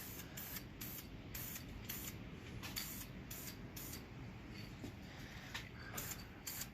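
VHT aerosol paint spraying onto a McCulloch 170 arc welder trailer, a steady continuous hiss broken by short pulses throughout, close and fairly quiet with no talking.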